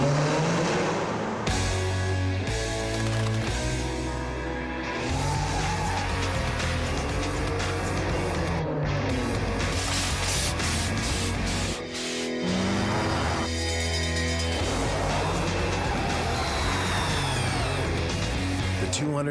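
Nissan Altima SE-R engine in a TV commercial, revving and accelerating in surging bursts over music, with tire squeal and a passing car; a voice speaks over it.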